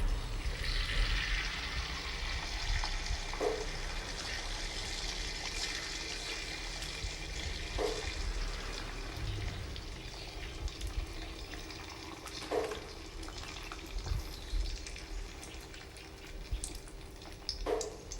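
Steady hissing sizzle of beaten eggs poured into hot oil for a Thai omelette, broadband and continuous, with a few faint clicks from the pan.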